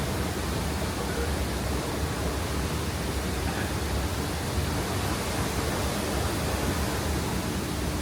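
Steady broadband rush of indoor waterfall-like water at Doha airport, constant and enveloping with no pauses, no talking heard over it.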